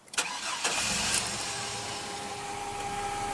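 A 2000 Chevrolet Blazer with a 4.3 liter V6 cranks briefly, catches and settles into a steady, close idle hum.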